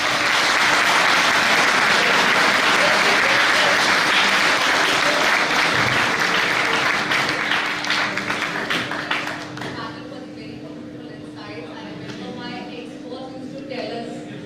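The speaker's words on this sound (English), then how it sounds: "can we have a big round of applause?" Audience applause closes a panel session on HR analytics: dense, loud clapping from a crowd that holds steady for about nine seconds, then thins and fades to scattered claps.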